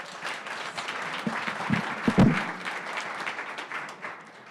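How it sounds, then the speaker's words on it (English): Audience applause at a startup community event in Atlanta, steady crowd clapping with a few louder nearby claps and a bump around the middle, at moderate level. "Give her a round of applause, guys."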